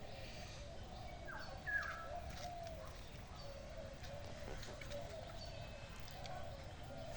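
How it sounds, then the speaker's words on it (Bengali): A dove coos faintly and at a distance in village woods in the morning, soft repeated low notes over a steady hiss of background ambience. "আপনারা কি ঘুঘু পাখির আওয়াজ শুনতে পাচ্ছেন এই জঙ্গলের মধ্যে?"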